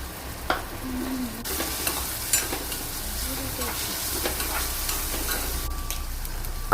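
Finely chopped onion sautés in a pan for Goan prawn tonak, a steady crackling sizzle with occasional clinks and spoon knocks against the pan, with no one speaking.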